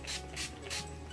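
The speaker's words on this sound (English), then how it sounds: "I'm gonna go and spray my face with the finishing spray also on my eyes." Makeup finishing spray is misted onto a face in three quick, soft hissing puffs, close up and quiet, in rapid succession.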